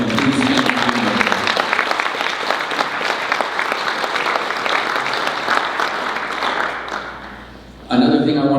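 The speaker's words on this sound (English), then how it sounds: "I want to just take a minute to give a round of applause for our sponsors." An event audience gives sustained applause for the sponsors, dense clapping carrying for about seven seconds before fading, then a voice resumes speaking.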